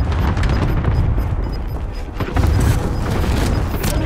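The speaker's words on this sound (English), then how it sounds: "Target airstrike is active." Airstrike blasts in Call of Duty: Warzone on the Rebirth map, a continuous low rumbling barrage of booming explosions that swells again midway, loud and sustained throughout.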